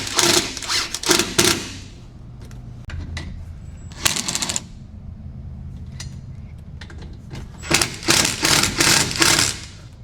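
Fasteners on a metal top of a CFMoto U10 Pro side-by-side being tightened, bursts of rapid mechanical ratcheting or power-driver chatter separated by quieter gaps with faint clicks, close up.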